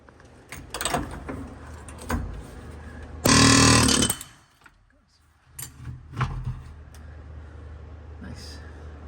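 A Chief pneumatic impact gun hammers on the tie rod of a Prevost bus in one loud, sustained burst of about a second, framed by clanks of tools and someone talking nearby.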